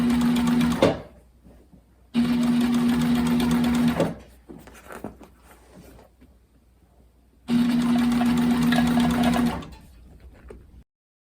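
A sewing machine stitching upholstery welting runs in three loud, steady bursts of rapid mechanical whirring, separated by quiet pauses with faint handling of the fabric, close up and without talk.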